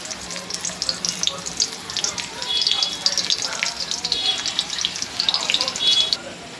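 Garlic dropped into hot oil for a Marathi home-style dish sizzles close up, a dense crackling hiss that swells after a few seconds, stays loud and steady, then cuts off near the end.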